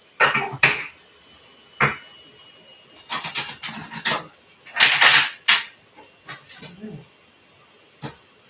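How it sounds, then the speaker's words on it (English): A deck of tarot cards is shuffled close up in irregular bursts of riffling and flicking, with short pauses and a few light taps between. "one more shuffle"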